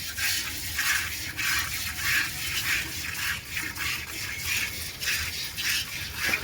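Rhythmic squirting streams of milk from a buffalo being hand-milked hit a container in a steady pulsing pattern, repeated over and over at close range, in a village.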